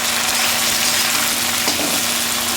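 Hilsa fish curry with mustard paste, tomato, green chillies, eggplant and potato fries in a pan with a loud, dense, continuous sizzle heard close up and unbroken throughout.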